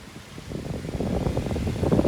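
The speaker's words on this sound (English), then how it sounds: "so we can switch the fan on, start it on the low speed" A 2003 Challenge 7-inch oscillating desk fan runs on low speed, a soft low whir rising over the first second into a slightly rough, rattly hum.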